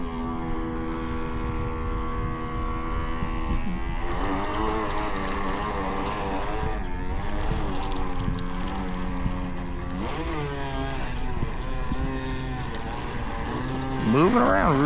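Small RC boat motor running at low throttle, a steady whining tone that rises and falls smoothly with gentle throttle changes, close and continuous throughout with no talking.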